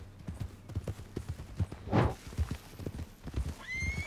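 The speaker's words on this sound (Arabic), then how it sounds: "هذا خيلي العربي الابيض اللي انا مخليه خاص في المهام" White Arabian horse in Red Dead Online trotting with steady, rhythmic clip-clopping hooves, close and clear, with a brief whinny or snort partway through.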